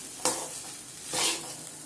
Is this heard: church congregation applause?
no